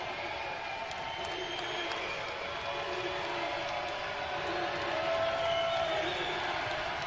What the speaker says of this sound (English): Crowd amps up.